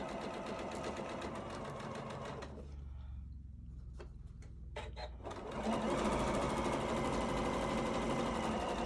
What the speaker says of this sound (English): So I'm just going to sew my seam allowance.